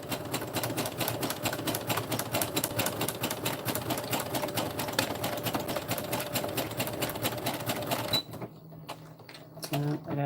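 A sewing machine stitches a zigzag on a homemade beach bag, a steady fast rhythmic clatter heard close by for about eight seconds, then it stops, leaving a few soft handling sounds.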